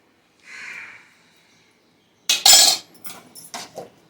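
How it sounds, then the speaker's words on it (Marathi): A ladle scrapes and clinks in a pot while sour yogurt is stirred into ginger-chili paste, first a soft swish and then a few sharp metallic knocks. "आता आपण दही थोडंसं आंबट पाहिजे तेवढं टाकलेलं आहे दोन पळ्या दही आता हे सगळं मिक्स करूया"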